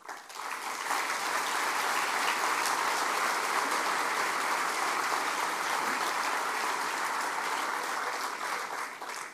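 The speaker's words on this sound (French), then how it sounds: "Je crois qu'on peut les applaudir." A crowd claps steadily for several seconds, a dense and sustained round of applause heard from within the room.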